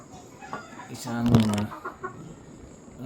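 Round head and white kelso cross chickens in a breeding pen, with a brief close cluck and call bursting out midway over soft farmyard background and a faint voice.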